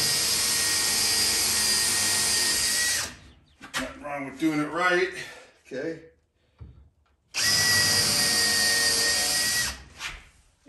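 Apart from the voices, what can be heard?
power drill drilling holes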